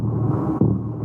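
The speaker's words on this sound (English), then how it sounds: "So this is the sound of a oyster toadfish forcing water out of its bladder." An oyster toadfish forcing water out of its swim bladder makes a low, continuous grunting rumble, dense and droning, with a brief dip and a renewed surge partway through, heard alone.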